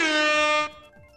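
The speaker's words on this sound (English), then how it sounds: "Should I keep using the air horn sound?" A loud air horn sound effect blares on a Mario Kart 8 Deluxe and Splatoon 2 tournament stream, a single sustained blast of a little over half a second that then cuts off abruptly.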